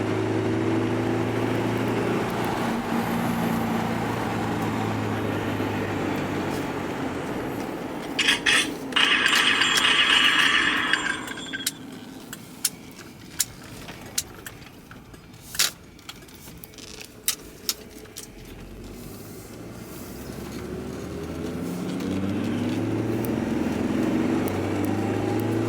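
A 1994 Ford Explorer 4x4 SUV with a five-speed manual gearbox cruises along a road, its engine and tire roar steady and near, with a brief rattling scrape partway through and no talk.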